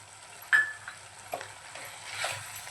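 Chopped tomatoes stirred into spiced kadai chicken masala in a pan, with a clear scrape and knock of the spoon at the start, followed by softer scraping and a faint sizzle, quiet and close.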